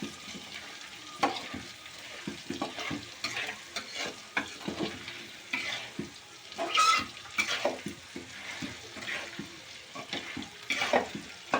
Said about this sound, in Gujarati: અને હલાવતા રહીશું એટલે તળિયેથી આપણી ડુંગળી સોટે નહીં.